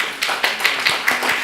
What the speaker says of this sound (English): A big round of applause, especially to all the women in the room